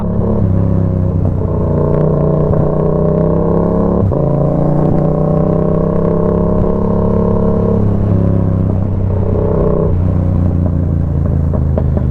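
A Yamaha MT-07 motorcycle revving and accelerating up close, its loud engine note climbing in pitch through gear changes, with brief dips and renewed pulls, heard alone without talk.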